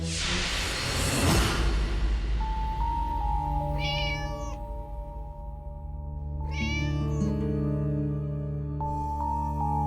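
A cat meows twice, drawn-out harmonic cries a few seconds apart, over a steady low hum and background noise, with a brief rustling swoosh at the start.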